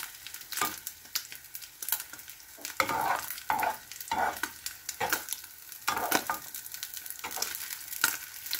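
Egg frying in a covered pan for a sardine omelette with hash brown, a steady sizzle punctuated by repeated scraping and stirring strokes, close and moderately loud with no talking.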